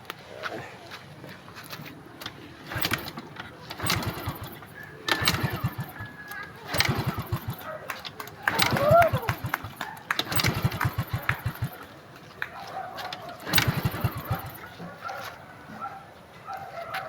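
A flood-damaged Yamaha scooter engine is cranked repeatedly, bursts of starter churning and sputtering that fail to catch, with someone talking between attempts.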